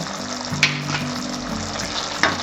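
A spoon stirs fresh cream and garam masala through simmering matar malai sabzi in a pan, giving a soft steady sizzle with a few scraping knocks against the pan, close and without talk.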